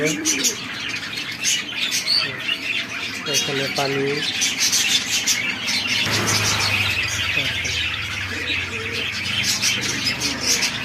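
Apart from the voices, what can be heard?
caged birds cooing and chirping at a bird shop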